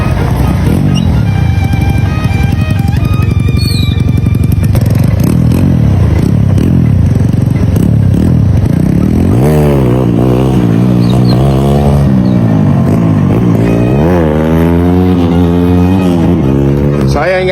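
A motorcycle fitted with an upgraded engine belt revs and rides off, loud rising and falling engine sweeps with clattering and scraping, while voices talk over it.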